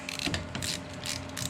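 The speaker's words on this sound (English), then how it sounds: "Put your 15mm nut back on the bottom. Snug it up." A 15mm castle nut is snugged onto a Kubota BX tie rod end with a ratchet, giving a quiet series of quick clicking pawl sounds in short bursts, close by and without talk.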